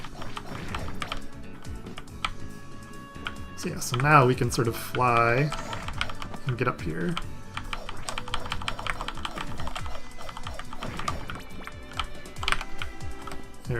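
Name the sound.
computer keyboard typing while playing a video game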